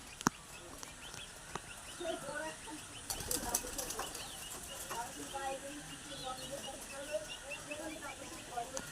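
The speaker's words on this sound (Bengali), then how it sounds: "এই যে পায়রা নামলো, এই যে বসলো পায়রা।" Released flying pigeons settle and perch at evening, wings flapping in a few sharp bursts, loudest around the middle, with scattered bird calls and a faint voice talking in the background.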